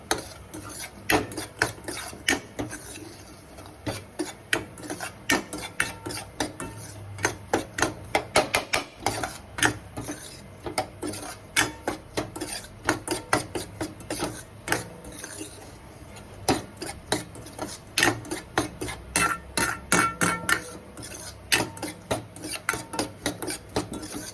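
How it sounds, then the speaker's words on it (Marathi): Semolina (rava) dry-roasting in a pan for rava kheer, stirred with a spoon that makes a busy run of quick scraping, rasping strokes against the metal, close and fairly loud. "हा रवा छान भाजून घेते."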